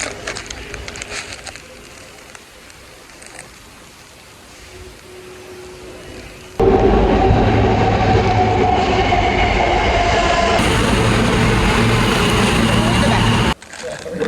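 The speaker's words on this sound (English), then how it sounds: "I just missed the train." A train passes close by, a sudden loud roaring rumble that holds for several seconds and then cuts off, after quieter background noise.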